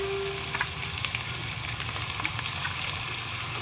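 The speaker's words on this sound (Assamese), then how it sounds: "এইখিনি অলপ টাইম ভাজি ল'ম।" Browned onions with added spices and bay leaf fry in hot oil, a dense, steady sizzle with scattered small pops and light stirring close by.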